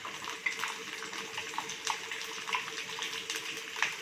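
Garlic frying in oil in a pan for Chettinad pepper chicken, a steady close hiss of sizzling broken by small crackles and pops, with no talking.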